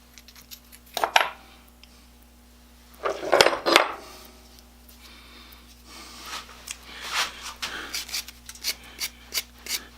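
Metal washers clink and clatter in separate bursts while a hand grinder is refurbished, close and sharp with quiet gaps between, then a run of small taps and scrapes.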